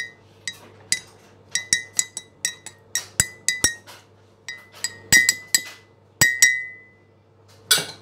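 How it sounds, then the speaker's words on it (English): A spoon stirring hot chocolate clinks repeatedly against a glass, making bright, close, ringing taps at an uneven rhythm, with no talking. "Now give it a stir."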